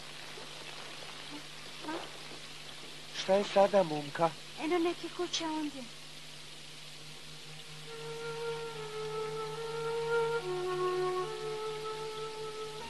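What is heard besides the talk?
rain falling in a forest, cartoon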